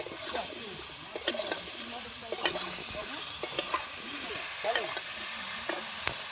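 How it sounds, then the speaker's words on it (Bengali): A spoon scrapes and turns vegetables with green chili and salt in a pan, soft repeated stirring knocks over a low steady sizzle, close and fairly quiet. "আমি নেড়ে নেবো ভালো করে"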